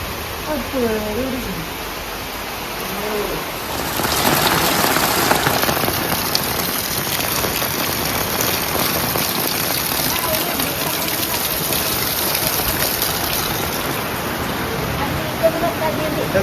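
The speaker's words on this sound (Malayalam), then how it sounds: "ആ കെട്ട നല്ല മഴ" Heavy rain pours down in a steady, loud hiss after a few seconds of quieter sound with voices at the start.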